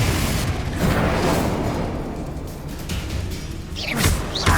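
Explosive spell blasts from combat in Hogwarts Legacy: dense booming bursts with whooshing rushes, a loud sustained roar, then sharp crackling impacts near the end.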